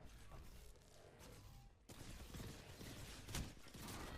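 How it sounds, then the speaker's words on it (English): Rapid gunfire in a video game shootout, bursts of shots rattling loudly and continuously over game noise, with a sharper crack near the end and faint voices underneath. "Я под обстрелом."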